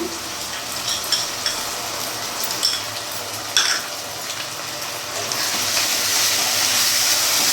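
Ginger, garlic, chilli and pepper paste sizzles in a hot pan along with salt and turmeric for a thin mutton curry. Steady frying hiss, punctuated by stirring scrapes, grows louder and fuller toward the end.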